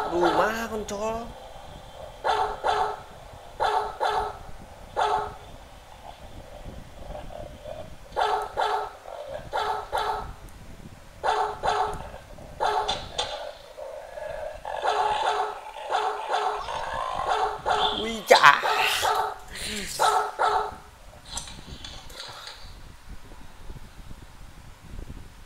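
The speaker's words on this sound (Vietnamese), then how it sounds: "Chó đáng ghét này." Dog barking in a horror video game, repeated sharp barks in irregular bursts that stand out against a steady game background, with a person talking over parts of it.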